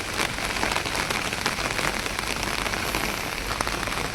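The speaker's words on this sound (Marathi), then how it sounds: "खतरनाक पाऊस आत पडतोय" Heavy rain pours down steadily in a dense, constant hiss of drops hitting surfaces, loud and close throughout.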